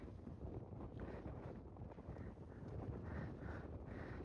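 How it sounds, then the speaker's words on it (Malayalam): Steady wind buffeting the microphone on a mountaintop near a dam in Amboori, a continuous low roar with gusts swelling and easing, outdoors with no voices. "നല്ല കാറ്റ് വീശുന്നുണ്ട്"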